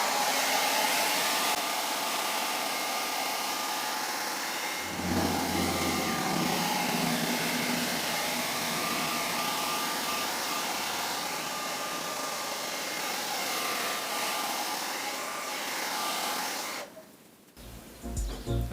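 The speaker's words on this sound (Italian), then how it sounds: "per scrupolo io comunque una passatina di phon gliela do, perché magari il biadesico si assesta meglio" Hair dryer blowing hot air over freshly applied double-sided adhesive on a chrome trim strip on a Nissan Qashqai J11 tailgate: a loud, continuous whooshing hiss that shifts pitch slightly partway through, then cuts off near the end.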